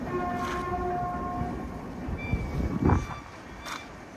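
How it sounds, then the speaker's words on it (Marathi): A train runs nearby with a steady low rumble and tonal horn-like lines, the noise swelling near the end as it goes past; faint voices may be mixed in. "इकडे ट्रेन चालली"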